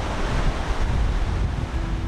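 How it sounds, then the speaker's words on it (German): Strong wind buffets steadily at a California beach with a broad rushing roar, waves faintly surging underneath, no voices. "Ja, auch ganz schön windig ist es."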